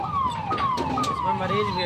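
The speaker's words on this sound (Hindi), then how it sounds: "एम्बुलेंस ये जा रही है, देख सकते हैं" Ambulance siren wailing in repeated falling sweeps close by at a busy road junction in Shuklaganj, Unnao, loud over traffic noise.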